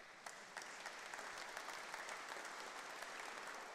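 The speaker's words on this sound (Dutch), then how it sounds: "Er is geen verbod op applaus voor meneer." Dense, even applause from an audience at a lecture event, a continuous wash of many hands clapping at a moderate distance.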